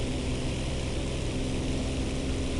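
Propeller aircraft engine in the War Thunder video game, a steady loud drone with a constant hum running unbroken throughout, with no talk over it.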